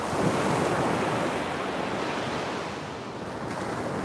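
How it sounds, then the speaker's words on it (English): Loud, continuous ocean surf with breaking waves washing in steadily, mixed with some wind noise on the microphone, heard alone with no voices. "the waves sound great today, Kat."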